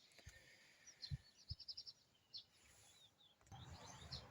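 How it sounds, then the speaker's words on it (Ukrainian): Garden birds in the country in June chirp and tweet in short, scattered bursts over a quiet background, several high calls overlapping, fairly close, with a few soft low thumps. "Птахи співають, тільки що зозуля ковала."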